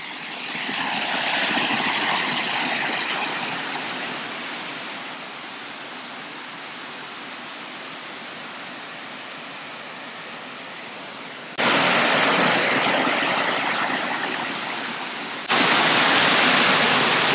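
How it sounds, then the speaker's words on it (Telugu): Rushing water at Pocharam Dam roars as a loud, steady, broadband wash that holds without pause, jumping abruptly louder twice as the view shifts closer to the flow. "ఇది వాటర్ ఫ్లో."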